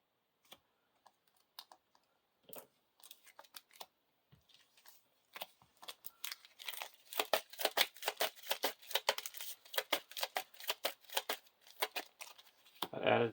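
Cards for the Lord of the Rings card game are handled and shuffled on a table, starting with sparse light taps and building into a fast, dense run of crisp riffling clicks close by.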